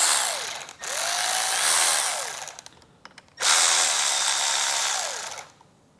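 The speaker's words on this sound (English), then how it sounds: "we're going to remove 2 more Torx bolts here on the outside of our grips." Power tool backing out Torx bolts from Harley Davidson handlebar grips, two loud sustained whirring bursts with rising and falling pitch sweeps, separated by a short pause, close and without talk.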